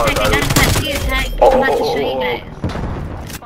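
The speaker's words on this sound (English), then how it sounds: "Sentry gun." Sentry gun firing in a video game, a rapid train of sharp shots mixed with thuds and game noise while excited voices talk over it.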